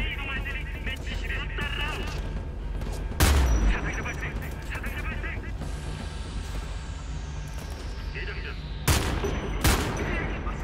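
Gunfire in the video game Homefront 2, with dense volleys of shots and sharp loud bursts near 3 and 9 seconds over a constant game soundscape, and people talking throughout.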